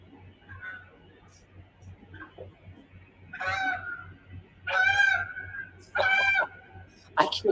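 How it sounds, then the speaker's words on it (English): Canada geese honk outdoors, first as scattered faint calls, then as louder, repeated honking bursts heard from a moderate distance against a low background hum. "I can hear the geese outside in stereo, both out my window and on the camera."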